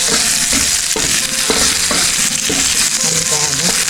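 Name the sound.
stir frying scallions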